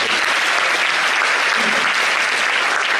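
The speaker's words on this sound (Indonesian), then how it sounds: "Tepuk tangan buat beliau." Loud, dense applause from a seated audience at an Islamic business talk, honoring a speaker, steady unbroken clapping filling the hall throughout, with no voices over it.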